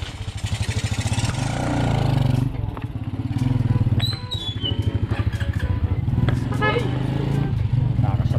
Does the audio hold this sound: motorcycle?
yes